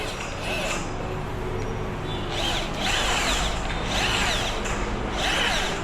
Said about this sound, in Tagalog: Ginagamitan namin ng barena, tapos spring na pang pang linis doon sa sa barado.